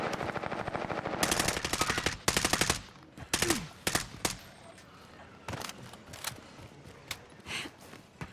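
Automatic gunfire from a teammate in the Warzone video game, with several loud, rapid bursts early on, then sparser, fainter shots and scattered pops against a low game background.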